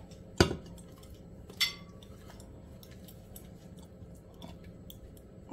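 Rabbit pieces are moved from a Cookeo pressure cooker into a gratin dish. Two sharp utensil clinks ring out against the dish, followed by faint scraping and quiet handling.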